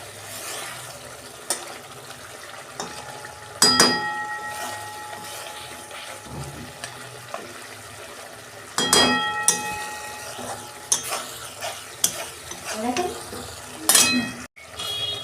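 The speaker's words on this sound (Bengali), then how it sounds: "এই যে আমি ওপর দিয়ে ঘি দিচ্ছি।" Ghee spooned over prawn malai curry and stirred in, with a few spoon and pot clinks and scrapes in bursts over a steady low background hum.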